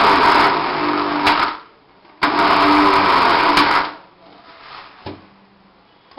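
A kitchen mixer grinder blends curd and besan for Punjabi kadhi, whirring loudly in two long runs separated by a pause and then a brief final blip.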